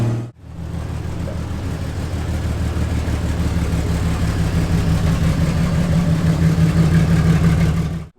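A Jeep on a test drive on the road after a ball joint upgrade, its engine giving a steady low hum and rumble that slowly builds, heard from inside without talk.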